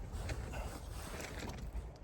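Strong, cold wind buffets and flaps a camping tent's fabric close by on a mountain trail, a rough, continuous rumble with gusty flutters throughout.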